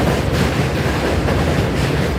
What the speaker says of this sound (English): You see that train right there?